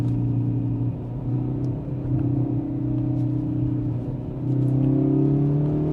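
A Volkswagen GTI Mk8 engine revs hard in second gear, a loud steady drone climbing in pitch toward the rev limiter, with a brief dip before it pulls again.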